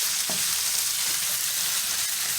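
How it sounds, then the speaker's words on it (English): Chopped meat sizzling in a pan as cheese gets mixed in, with a dense, even frying hiss and a few soft scrapes from stirring; close and fairly loud, with no talking. "I went ahead and add our cheese on like so, and all we're going to do, go ahead and mix."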